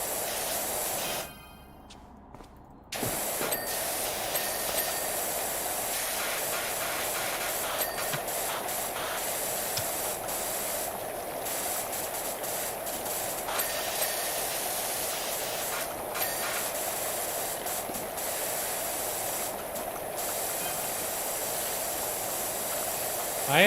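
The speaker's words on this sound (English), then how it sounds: "I am enjoying this sprayer." Pressure washer sprayer in a video game giving a steady, loud hiss that runs almost without a break, cutting out briefly near the start and then carrying on evenly to the end, with no talk over it.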